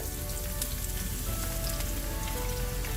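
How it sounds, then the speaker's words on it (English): Onions sauté in a pan on a stovetop, giving a steady, close crackling sizzle with scattered pops throughout, with no voices over it. "we're going to get started first by sauteing our onions. I have a pan on the stove here"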